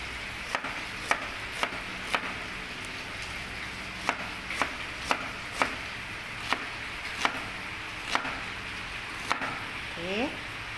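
A knife chops a large onion on a board, about a dozen sharp, evenly spaced cuts over a low background hum, ending with a brief faint voice-like sound.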